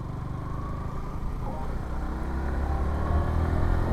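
A Yamaha R15 V4 motorcycle riding through city streets, its engine giving a steady, continuous drone close by that slowly swells louder toward the end, with no talking.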